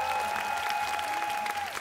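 Big crowd applause for three judges after a dance showcase at an event in Korea, a dense continuous roar of clapping with a steady tone ringing through it.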